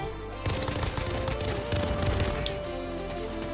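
Rapid gunfire rattles continuously in Call of Duty: Modern Warfare during a Hardpoint match, with a three-round burst pistol among the shots, dense and loud with overlapping bursts throughout.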